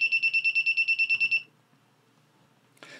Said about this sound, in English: it'll activate the beeper.